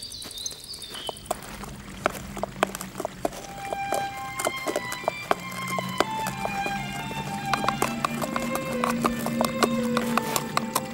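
Donkey hooves clip-clop in quick, irregular taps close by, with crickets and other ambient sound underneath throughout.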